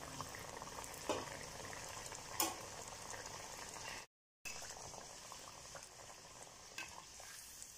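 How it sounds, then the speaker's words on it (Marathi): Onion kachori half-frying in hot oil give a faint, steady bubbling hiss with a few soft pops and one brief dropout midway. "ते हाफ फ्राय करायची कचोरीला"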